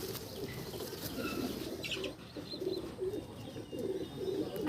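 Delhi pigeons in a loft coo in low, repeated throaty bursts close by, while wings flap and flutter in brief rustling spurts over the steady cooing.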